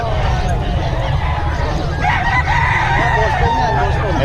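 A Boston gamefowl rooster crows in a drawn-out call, with a second crow following partway through, over a steady low rumble and faint background chatter of people nearby.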